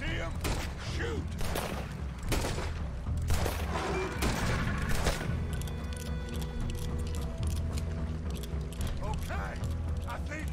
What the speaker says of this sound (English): Put every bullet you got in him.